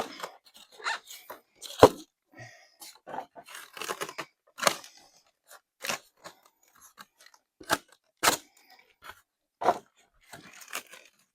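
Taped parts of an E-flite Airbus 320 NEO twin EDF model airplane are pulled from their packaging, with close, irregular bursts of crinkling, tearing tape and rustling separated by brief pauses.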